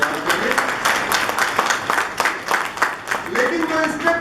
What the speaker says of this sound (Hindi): उसके लिए सरकार को एक बार ताली बजा के सब लोग